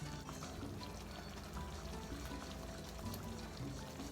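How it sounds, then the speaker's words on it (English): Juice from canned olives drains in a steady pouring trickle for about four seconds, a constant wet stream close by with no talking, added to a Cuban ropa vieja of braised shredded beef brisket. "And we're going to add some olives. I'm going to drain the juice."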